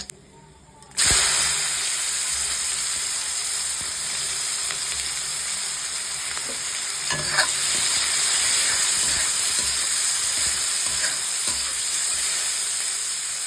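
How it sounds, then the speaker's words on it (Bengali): Onions drop into hot oil with whole spices and dried red chilli, bursting into a loud, steady sizzle that starts abruptly and hisses on without pause, close up, with occasional faint clinks and no talking. "এবার আমি ফোড়ন দিয়ে দেব এবার আমি পেঁয়াজটা দিয়ে দেবো"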